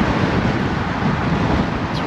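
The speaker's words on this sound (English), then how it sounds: "It's real windy today." Steady wind roaring and buffeting against the microphone, a constant low rumble with no pauses and no voices.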